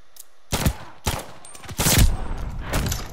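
Shotgun blasts in a Search and Destroy round of a video game, four loud booming shots spaced about half a second apart, each with a brief ringing tail.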